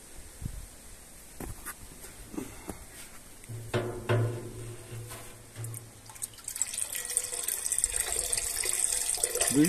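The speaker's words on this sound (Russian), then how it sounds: "вода должна течь в эту бочку с самотоком" Water running by gravity into a barrel in a rainwater irrigation setup: scattered drips and splashes and some clatter at first, then a steady rushing, trickling flow that builds louder toward the end, with no talking.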